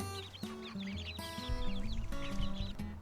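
Ducks and chickens cluck and chatter in a busy, continuous mix of calls at close range, with low squawks and repeated clucks overlapping throughout.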